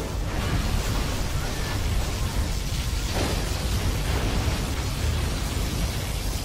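Particle cannon blast in Command & Conquer Zero Hour, a sustained loud roaring wash of explosive noise that holds steady throughout without distinct separate hits.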